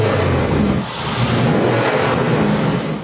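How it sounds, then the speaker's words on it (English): A car engine from a £10,000 supercar challenge fires up and revs hard, loud and close, with a brief dip before the revs climb again. "First to start their engine."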